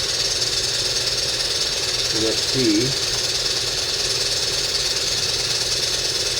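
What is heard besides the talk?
live steam engine with centrifugal governor running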